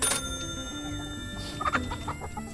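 Chickens on a farm cluck softly amid a busy background hum, with a few sharper clucks near the end.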